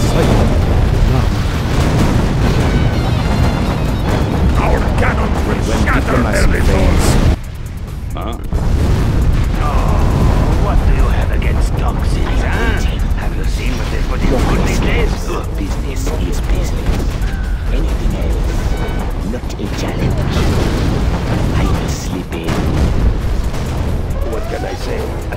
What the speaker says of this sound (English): Our cannons will shatter them!